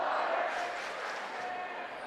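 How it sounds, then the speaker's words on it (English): Crowd noise from Sutherland fans at a boys' high school basketball game against Mendon, a loud, sustained roar of cheering and shouting that holds steady across the whole moment. "It's the Sutherland crowd vocal again."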